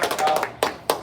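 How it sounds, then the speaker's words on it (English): Scattered applause for Grace's black belt graduation, a few quick hand claps close by followed by two separate sharper claps, thin and brief. "So let's make sure we give Grace a round of applause."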